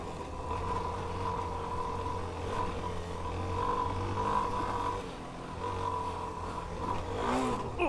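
A Suzuki DR-Z4s motorcycle rides a rocky trail in Central Oregon, its engine droning loud and close with a steady throttle and small surges, with no talking.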